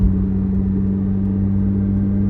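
Low, rumbling burble from a C8 Corvette Z06's V8 fitted with ported 91mm throttle bodies, a steady loud idle with no talk.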